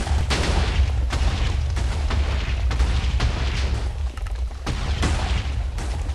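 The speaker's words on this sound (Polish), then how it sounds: "Widzę fajerwerki." Repeated booming blasts go off in quick succession in Minecraft, fireworks-like explosions crackling and thudding throughout, loud and close.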